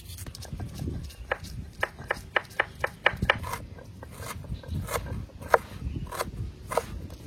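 A knife chops onion finely on a board with a quick run of sharp, evenly spaced taps, then scattered further cuts, close and clear over faint background noise.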